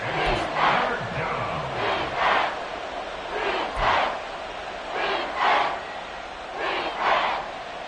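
A video game football stadium crowd roars in swelling waves, broad and continuous, rising and falling every second or so with a few faint voices underneath.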